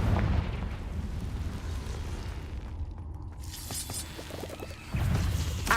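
A booming explosion from the Confringo blasting spell in Hogwarts Legacy, set over dense, rumbling game noise. The blast cuts out briefly, then a heavier burst lands near the end.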